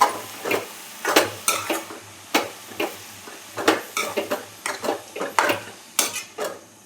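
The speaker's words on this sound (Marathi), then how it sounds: "भाजी छान तेलात फ्राय झाली आपली." Fenugreek greens stirred and frying in oil in a pan, with repeated metallic scraping clinks of a spatula against the pan in an uneven rhythm over a faint sizzle.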